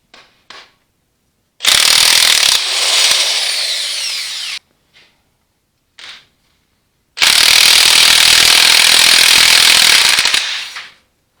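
A 1-1/8 inch socket on a power tool working loose the snap coupler assembly of an Allis Chalmers WD45 tractor: two long, loud, close bursts of mechanical rattling, separated by short clicks and knocks, with no talking.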